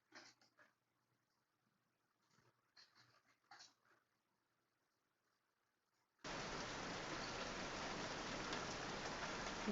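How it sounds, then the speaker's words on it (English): Played recording of gentle rain switching on abruptly partway through as a steady loud hiss of rainfall, preceded by quiet panting and faint whimpers from a dog nearby. "Okay, that's some gentle rain sounds."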